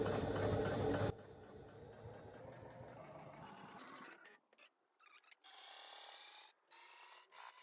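A sewing machine stitching a seam on a fabric pouch, a steady close mechanical whirr that slows and stops and starts in short runs, fairly quiet.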